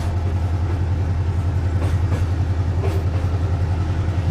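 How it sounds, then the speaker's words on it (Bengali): A train rolls steadily along the rails on a rainy night, its deep, continuous rumble and rhythmic wheel clatter running loud and close throughout, with no voices. "বৃষ্টির ফোঁটাগুলো ভেদ করে ট্রেন তার নিজস্ব গতিতে সামনে এগিয়ে যেতে লাগলো।"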